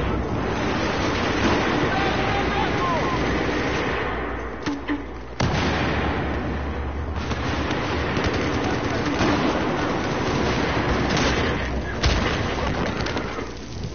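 Battlefield 4 combat, including an M32 multi-grenade launcher, gives scattered gunshots and heavy blasts over a dense, roaring battlefield ambience, with a couple of sharper bangs standing out and indistinct voices mixed in.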